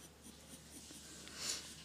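Pencil drawing a parrot on paper, faint close scratching strokes in a quiet room, with a slightly louder stroke near the end.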